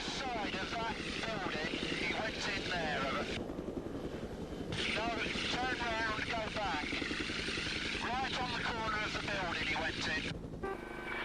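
A police helicopter's rotor thrums steadily overhead throughout, loud and close, while someone talks over it continuously.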